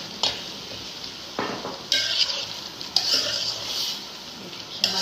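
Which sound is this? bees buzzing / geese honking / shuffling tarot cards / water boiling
water boiling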